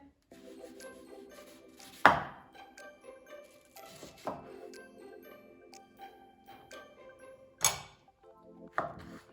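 A knife chops food into cubes on a cutting board while making an oatmeal dish: a few sharp, separate knocks spaced a couple of seconds apart over softer scraping and faint clinks, close and clear.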